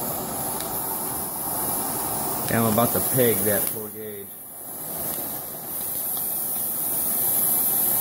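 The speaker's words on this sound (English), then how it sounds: "Now that's probably the amount of steam I'm going to be injecting into the combustor of the device I'm building." A homemade micro boiler vents steam in a loud, continuous hiss that drops away briefly, then resumes steadily. Someone speaks over the start of it.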